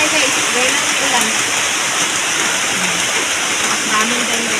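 Steady rain falls in a dense, continuous hiss, with voices talking over it throughout.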